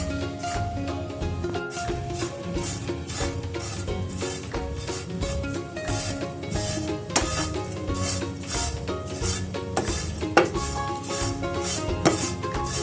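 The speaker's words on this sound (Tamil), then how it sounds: "பாருங்க, நல்லா ஃப்ரை ஆகிட்டே வருது" A snack fries in a pan on a stove over low flame, with continuous sizzling and repeated scraping and stirring clatter of a utensil against the pan.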